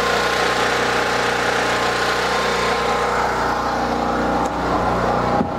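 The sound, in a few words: new portable generator running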